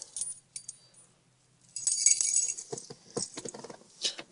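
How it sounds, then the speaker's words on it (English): Car keys jangle at the ignition of a 1965 Buick Electra 225, producing light metallic clinks and rattles up close, sparse at first and then busier. "Key goes right here."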